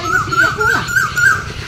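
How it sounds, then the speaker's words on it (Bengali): Asian koel calling beside a village pond, a repeated rising two-note whistle sounding about five times in steady rhythm, moderately near over faint outdoor background. "কোকিল ডাকে।"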